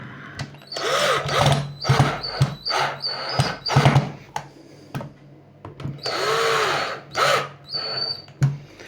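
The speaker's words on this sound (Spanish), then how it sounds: "como tiene limitador de par, vemos que salta el limitador de par" A Black & Decker electric screwdriver whirs in repeated short bursts, its torque clutch slipping with a rapid ratcheting clatter each time, close and loud, with brief pauses between runs.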